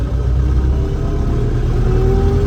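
A YuMZ-6 tractor engine runs loud and close while plowing, a steady heavy diesel rumble with a rising tone toward the end as it pulls under load.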